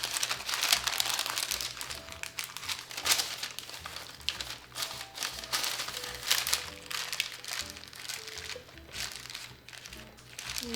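Plastic wrap crinkles and rustles in bursts as it is rolled up around a pesto salmon fillet, a close, fairly quiet crackling that comes and goes steadily.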